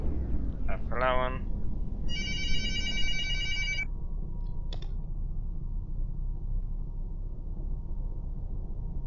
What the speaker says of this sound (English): Silly phone